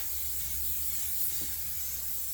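A spray can coats an object in a vanilla-scented finish during a beginner epoxy restoration project, giving a steady, continuous close hiss that runs unbroken throughout.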